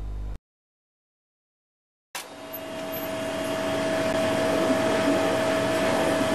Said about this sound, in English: This is the atmospheric plasma machine that we have for the moment in the lab.